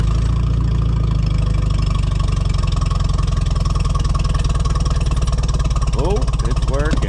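A Farmall tractor engine running close by with a loud steady low chugging idle throughout, and someone talking over it near the end.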